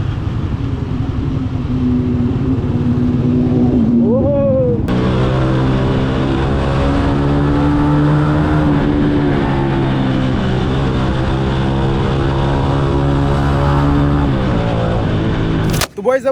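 Modified motorcycle being ridden: loud, close engine drone with rising and falling revs across the whole run, a brief rev sweep early on, ending abruptly.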